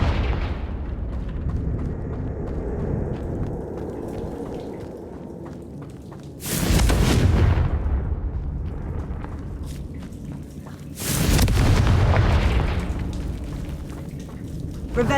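Confringo fire spells exploding in the Hogwarts Legacy video game, two big booming blasts with crackling, roaring tails several seconds apart over a steady ambient game rumble.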